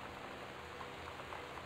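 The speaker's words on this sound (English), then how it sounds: "I want the rain to stop." Rain in the game Gone Home falls as a steady, soft hiss of drops on surfaces. It is faint and continuous, with no talking.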